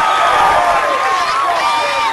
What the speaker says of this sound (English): Crowd is just letting loose.